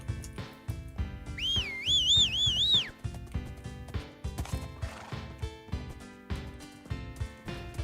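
A horse in the game Wynncraft gives a wavering, whistle-like whinny over a steady beat of clip-clopping hooves, which carry on at a trotting rhythm after the call fades.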